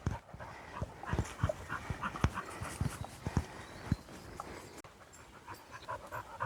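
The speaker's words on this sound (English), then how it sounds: "Apologies for the very puffy spaniel next to me," A fluffy spaniel pants close to the microphone on a woodland hike through the Heart of England Forest, its quick breaths repeating in short irregular bursts over faint rustling outdoor background.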